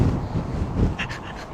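Strong gusty wind buffeting the microphone at the Golden Gate Bridge in San Francisco, a loud low rumble that swells and eases over a second and a half.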